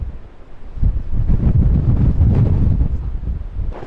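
Blustery wind buffeting a microphone on a coastal headland walk near Fishguard at New Year, a loud continuous low roar that rises and holds, with no talk.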